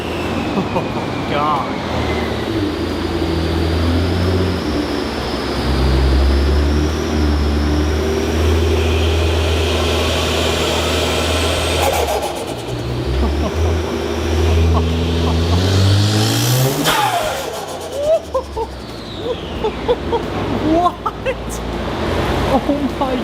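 A Nissan R35 GTR engine revving, a steady roaring drone that swells and rises sharply in pitch toward a high peak before dropping off, heard close with people talking over it.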